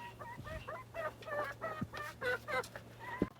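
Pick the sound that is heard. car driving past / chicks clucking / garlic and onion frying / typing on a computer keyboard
chicks clucking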